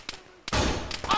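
Burst of gunfire in the military shooter Arma 3 during a firefight: a short quiet lead-in with a few faint pops, then a sustained loud volley of rapid shots for most of the remainder.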